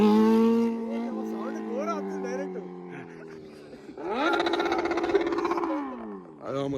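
A Kawasaki Z900 motorcycle revs hard and surges through a wheelie, its engine note climbing and falling in loud, harmonic roars, with a brief burst of rapid high revving near the end.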